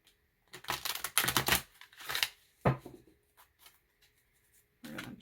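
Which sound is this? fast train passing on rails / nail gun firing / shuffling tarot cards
shuffling tarot cards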